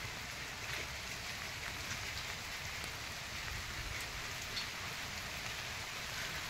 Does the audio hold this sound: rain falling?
yes